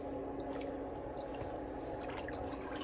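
A foot is lowered back into a pedicure foot bath during gentle cleaning of an elderly person's feet, giving soft wet squishes and drips over a steady bubbling hum of water.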